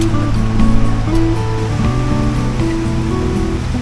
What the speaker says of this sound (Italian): E qui si dovrebbe andare alla cascata.